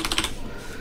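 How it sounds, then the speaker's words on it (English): A brief patter of a few quick computer keyboard keystrokes up close, fading into quiet room tone. "So if I start typing in color"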